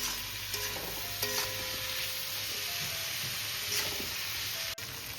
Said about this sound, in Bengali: এবার আমি ভালো করে এই ডাঁটা আলু ভালো করে কষিয়ে নেব